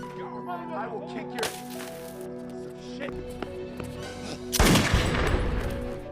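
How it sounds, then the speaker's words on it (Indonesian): Gunfire rings out in a film scene as armed men attack a house, with scattered sharp cracks and then a heavy, loud burst of shots near the end over a background of other sound. "Jack harus terkena tembak oleh orang-orang tersebut"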